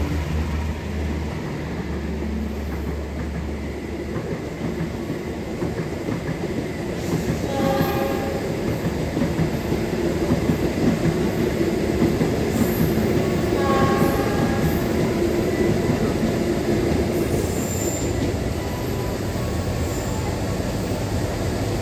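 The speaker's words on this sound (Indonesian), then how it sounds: "disusul kereta api Argowilis dari Bandung dengan tujuan akhir Surabaya Gubeng" Argo Wilis New Generation passenger train, travelling from Bandung to Surabaya Gubeng, rumbles past a waiting commuter train with a steady rolling roar and rhythmic wheel clatter, plus a few higher squeals and horn-like tones, heard from inside the stationary carriage.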